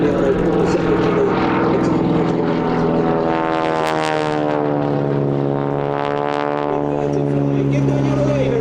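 Propeller aircraft at an airshow, two of them rolling down the runway, their steady engine drone and propeller buzz loud and continuous throughout, rising slightly in the middle, with a commentator talking over the top.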